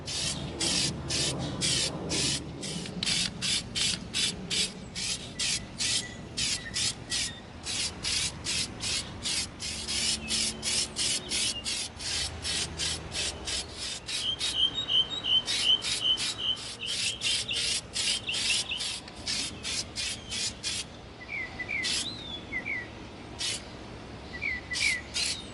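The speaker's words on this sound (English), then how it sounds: "We're going to begin coating our lightsaber set with our Plastidip." An aerosol can of Plastidip rubber coating sprays onto EVA foam lightsaber props outdoors in short rapid bursts, close and fairly loud, over a faint outdoor background with occasional birdsong and no talk.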